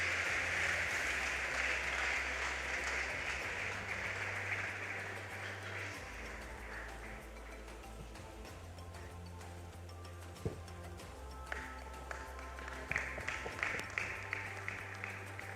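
Audience applause at a school graduation and achievers' ceremony in Tema, a steady crowd clapping at moderate distance that tapers slightly, with a few sharper nearby claps toward the end.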